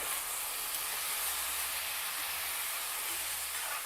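Onions spread out in a pan and frying over a medium flame, giving a steady, even sizzling hiss that holds at the same level throughout with no voices.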